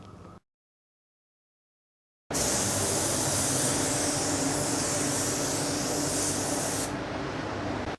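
A spray gun lays a thin coat of coarse aluminium metallic silver base onto a 1932 Ford, a short burst, a silent gap, then a loud continuous close-up hiss of spraying that lasts to the end.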